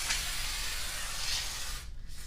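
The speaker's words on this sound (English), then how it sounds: "So we're going to go ahead and spray our track down now," Lubricant, such as WD-40 or a garage door spray, is sprayed from an aerosol can onto the metal track of an overhead garage door, giving a loud, steady close hiss that cuts off near the end.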